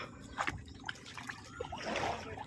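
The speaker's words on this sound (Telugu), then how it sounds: "నీళ్ళు దాటేటప్పుడు అనమాట నీళ్ళు క్లీన్గా ఉన్నాయి చూసారా" Faint water trickles and splashes as someone wades across a clean shallow stream, soft, close and uneven with small sloshing bursts.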